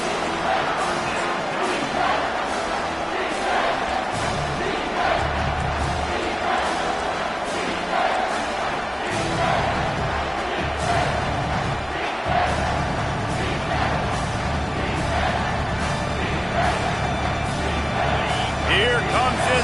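Dense, steady roar of a home stadium crowd in a Madden football video game as the defense faces third down, loud and continuous throughout with a few thumps and swells, no commentary heard over it.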